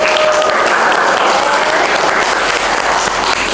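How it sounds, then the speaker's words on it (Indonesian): Classroom applause from students at the close of an art lesson in an Indonesian school, a steady, dense clapping that fills the whole stretch at close range with no talk over it. "Beri tepuk tangan buat kita."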